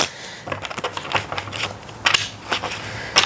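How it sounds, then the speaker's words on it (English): Rapid papery flicks and soft clicks of cards being shuffled by hand, close up and irregular, with a couple of sharper snaps. "I'm just going to shuffle this deck."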